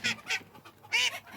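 Backyard chickens and call ducks at snack time let out a few short, close clucking calls in quick bursts, with quiet gaps between them.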